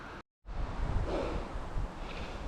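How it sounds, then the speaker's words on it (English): Gusty wind buffets the microphone with a low rumbling roar after a brief dropout, steady and close with no talking. "It's getting windy"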